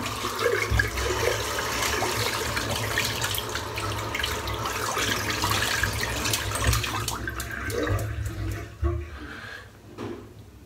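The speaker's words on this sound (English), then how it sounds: "Just rinse the brush out." Running tap water splashes steadily into a sink while a shaving brush is rinsed out after a head shave, a continuous close wash that thins and breaks up near the end.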